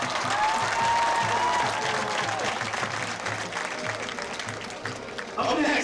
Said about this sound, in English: A round of applause for Caroline Vega and Cole Clark.